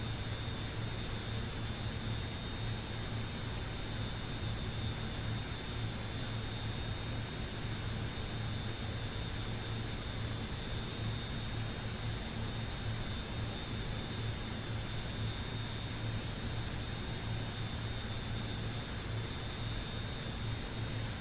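A Boeing 737-300 jet climbing out over clouds near Manchester in Microsoft Flight Simulator 2024, a steady broadband engine roar with a constant high whine and low rumble, unbroken and loud for the whole stretch.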